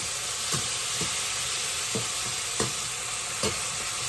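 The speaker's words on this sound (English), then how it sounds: "Stir it up" Chopped onion sautéing in a pan over medium heat, a steady close sizzle and hiss broken by several soft scrapes and knocks of a spoon stirring, with no talking.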